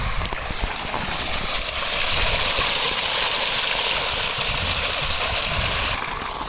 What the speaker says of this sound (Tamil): மொத்தம் 6 இடத்துல தண்ணி போயிட்டுருக்கு.